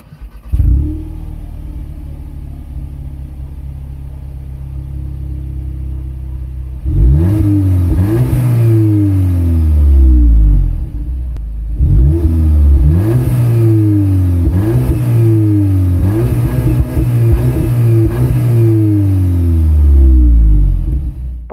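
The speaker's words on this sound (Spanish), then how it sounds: "Ahora encenderé el coche y escucharéis un poco cómo suena este escape." A 2022 Volkswagen Polo GTI with twin chrome exhaust tips idles at a steady burble, then is revved hard in repeated rising and falling bursts, loud and close with no talking.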